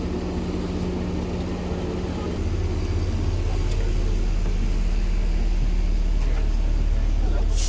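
Zion National Park shuttle bus engine rumbling steadily and close, a low drone that rises slightly partway through, with faint wind and road noise.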